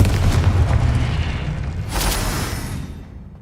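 The Confringo spell explodes in the Hogwarts Legacy video game with a loud, deep boom and a rumbling blast. A second burst flares midway before the sound fades out.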